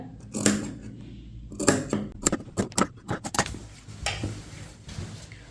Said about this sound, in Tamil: கட் பண்ணுறதை இந்த மாதிரி கிராஸாக கட் பண்ணுங்கள்